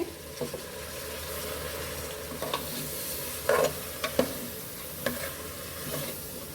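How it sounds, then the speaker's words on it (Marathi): Dal goes into a pan of vegetables for khichdi and sizzles gently while being stirred, a steady soft frying hiss with scattered spoon clinks and scrapes, close and fairly quiet, no speech. "आता याच्यामध्ये मी डाळ घालून घेणार आहे"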